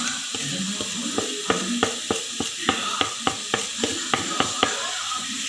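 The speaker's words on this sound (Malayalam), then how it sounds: "മൂപ്പിച്ചെടുക്കണം, അതിൻ്റെ പച്ചമണം മാറുന്നത് വരെ" Chilli, coriander, garam masala and pepper powders frying in a pan for a clam meat fry, a steady sizzle broken by a regular series of sharp scraping or tapping knocks, close and fairly loud.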